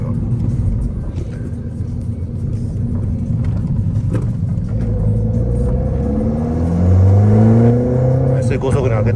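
A 2012 Mini Cooper Coupe John Cooper Works engine runs steadily inside the cabin and climbs in pitch through upshifts toward fifth gear. The rumble is loud and continuous, with rising harmonic sweeps near the end.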